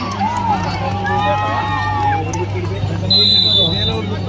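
A crowd at a school kabaddi match keeps up a steady, dense roar and babble of cheering, with a high whistle-like tone cutting in near the end.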